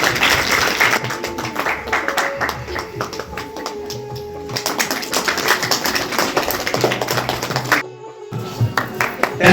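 Loud, dense clapping from a crowd at an award ceremony honouring students, sustained and sharp, with a brief dip near the end before resuming.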